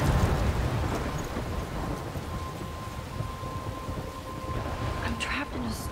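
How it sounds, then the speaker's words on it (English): A thunderstorm with rain in the Life is Strange video game: steady, dense rainfall hisses throughout while low thunder rumbles underneath, filling the whole scene with constant noise. "I'm trapped in a storm?"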